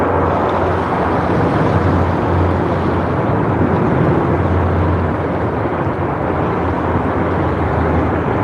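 An airliner landing at Sydney Airport with its thrust reversers deployed makes a loud, continuous rumbling roar that holds steady for the whole stretch, with no voices.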